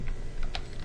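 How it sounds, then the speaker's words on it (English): Typing on a computer keyboard, a few soft, quick key clicks up close over a steady background hiss. "So in the text field, we will start typing"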